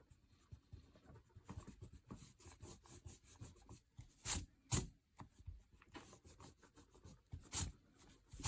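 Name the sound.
eraser rubbing out pencil marks on paper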